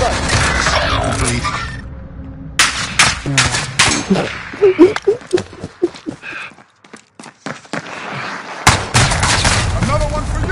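Video game gunfire crackles in rapid bursts and scattered single shots, loud and close, mixed with voices and clattering effects, then a brief lull before more shooting.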